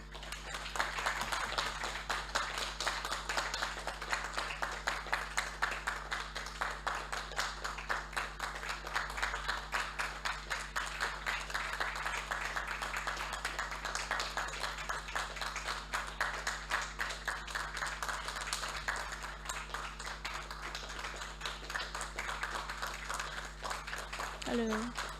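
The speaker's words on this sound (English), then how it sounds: "So let's give a big round of applause to our new batch." Sustained audience applause fills an auditorium at an academic year opening ceremony, a dense continuous wash of clapping at steady loudness for the whole stretch, with no talk over it.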